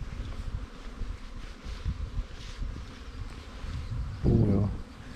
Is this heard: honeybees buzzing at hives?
yes